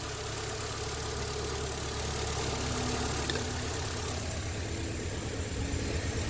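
A 2005 Mini Cooper engine idles with cylinder 3 unplugged and misfiring, a steady, close, low mechanical rumble that holds throughout with no talking.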